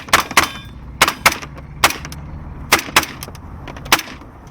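Gunfire during a vehicle contact drill in a security and special operations training course: sharp shots crack in an irregular string, some in quick pairs, others spaced apart. The shots are close and loud, with no talking between them.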